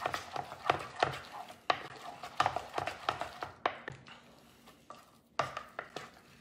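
Thick choux pastry dough being mixed with eggs by hand, a wet, sticky stirring and slapping in a steady uneven rhythm of close repeated strokes, moderately loud, with no talk over it.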